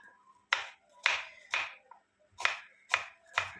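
Knife chopping achinga payar (long yardlong beans) on a cutting board in a Kerala home kitchen: six sharp, evenly spaced chops with brief gaps between them, close and clear, with no talking.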